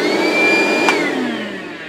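A DeWalt cordless battery-powered vacuum runs loud and close, a steady high whine that slowly drops in pitch as it winds down, with no voices.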